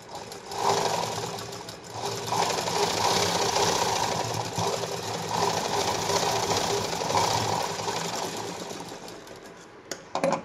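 A sewing machine stitches down the middle of a folded strip for a blouse, a close, steady whirring hum with rhythmic needle clatter running nearly nonstop, ending in a few faint clicks.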